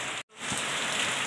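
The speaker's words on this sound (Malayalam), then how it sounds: "മഴയാണ്, മഴ നല്ല പൊരിഞ്ഞ മഴയാണ്" Heavy rain pouring down, a dense, loud, steady hiss of falling water broken only by a very brief cut near the start.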